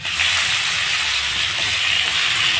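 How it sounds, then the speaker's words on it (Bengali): Marinated soybean chunks dropped into sizzling mutton fat in a pan make a loud, dense, steady hiss that lasts the whole stretch, close up and unbroken by talk. "এবার সয়াবিনটা যেটা আমরা মেখে রেখেছি সেটা এর মধ্যে একবারে দিয়ে দেবো"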